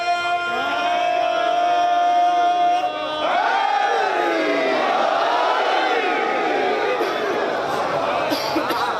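A large crowd at a religious majlis gathering shouts a religious slogan in unison, loud and sustained, their voices rising and overlapping in a fervent collective chant.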